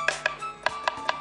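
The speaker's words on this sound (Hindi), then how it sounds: "ये पतला पतला काट लेते हैं प्याज को" An onion is thinly sliced with a knife on a board in a home cooking setting: five or six evenly spaced crisp blade strokes, close and fairly quiet, with no talking.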